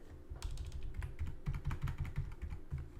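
Steady computer keyboard typing during a coding lesson, including shortcut key presses, with rapid clustered clicks and low thumps continuing throughout.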